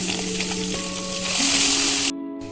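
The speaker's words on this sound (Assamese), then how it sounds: "এতিয়া এই মাছখিনি ইয়াত এটা এটাকৈ ফ্ৰাই কৰি" Pabho fish frying in hot oil in a wok, a loud steady sizzle that swells as more pieces go in, with a tonal hum beneath and a brief dropout near the end.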